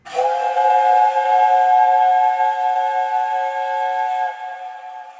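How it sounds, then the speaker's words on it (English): A steam locomotive whistle blows a long, loud, steady chord-like tone for about four seconds, then fades out, with no voices over it. "the guard blew his whistle, and Spencer responded with a"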